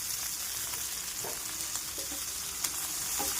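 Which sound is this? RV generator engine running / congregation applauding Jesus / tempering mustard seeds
tempering mustard seeds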